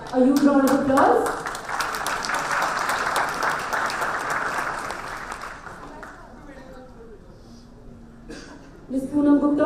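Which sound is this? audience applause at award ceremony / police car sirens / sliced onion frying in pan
audience applause at award ceremony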